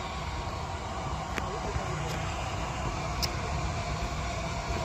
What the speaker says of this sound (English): here is Sir Nigel Gresley, the one and only A4. A beautiful train.